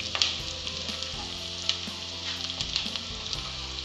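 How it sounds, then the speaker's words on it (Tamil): Onions sauté with salt in a hot pan for a fish curry, giving a steady sizzle with occasional sharp scraping strokes of stirring, moderately close and without talk. "இப்போ வெங்காயம் நல்லா வதங்கிருச்சு"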